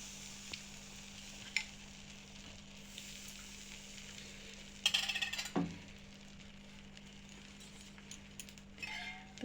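Rice batter is ladled into a well-heated pan, giving a short burst of sizzling and crackling that quickly fades back to a quiet kitchen hum, with a few faint clinks before and after.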